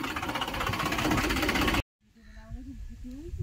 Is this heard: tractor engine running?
yes